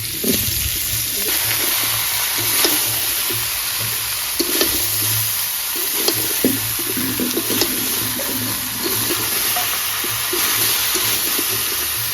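Ash gourd frying in a pan, giving a steady close hiss and crackle of oil that runs throughout, with scattered clinks and scrapes from the pan over it.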